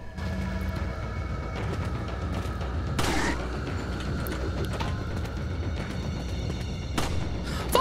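Gunshots in Resident Evil 4 come as a few loud, sharp blasts spaced far apart over a steady rumbling game ambience, with no talking.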